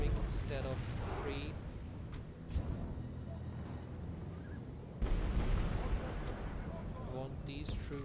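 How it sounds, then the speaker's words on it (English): Cannon fire in a Medieval 2 Total War battle, with deep booms over a continuous battlefield rumble and one stronger blast past the midpoint, while someone talks over it. "One cannon firing instead of 3."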